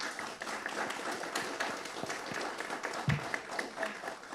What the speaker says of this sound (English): Can we give another round of applause for our guests,